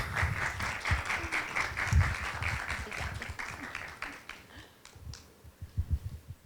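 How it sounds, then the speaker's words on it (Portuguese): An audience at an evening literature talk gives a speaker a warm round of applause, steady clapping that gradually thins out toward the end with a few scattered claps. "E eu gostaria que vocês a recebessem com uma salva de palmas."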